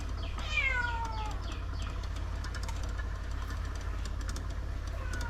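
A cat meows a few times in a Konkan village kitchen where jackfruit vegetable is cooking, clear rising-falling cries near the start, followed by a low steady background hum.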